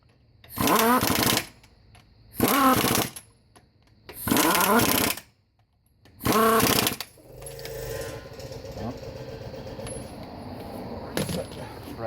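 An impact gun drives lug nuts onto 17-inch wheels fitted with 37-inch tires and spacers, with four loud, close rattling bursts about a second each, separated by short pauses, and then a lower mechanical hum.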